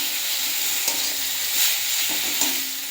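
Masala of spices and tomato being stirred and fried in a pan, a steady close sizzle with soft scraping stirs throughout, no voices.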